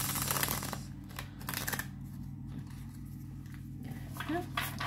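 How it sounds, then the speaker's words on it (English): A deck of black-edged oracle cards being shuffled in sections, giving a soft riffling and rustling under a steady low hum, with a person speaking over it. "You can easily shuffle these cards."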